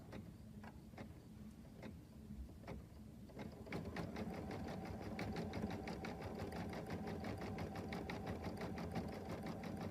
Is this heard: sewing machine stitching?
yes